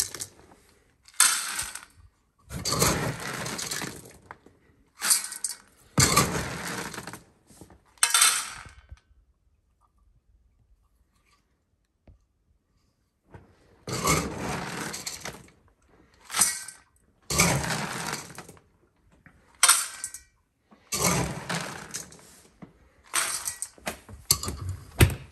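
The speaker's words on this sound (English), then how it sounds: "Do 2 cups of dry kibble for each one." Dry kibble poured from a scoop into Rottweilers' bowls, several separate bursts of hard pellets rattling and clinking into the dishes with quiet pauses between, close and crisp, no voices.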